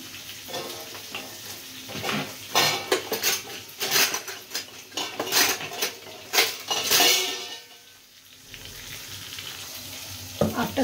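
A spoon scrapes and clinks against a pan while adding a poppy seed, white mustard and sesame paste to sizzling oil, with repeated metallic knocks over a steady frying hiss.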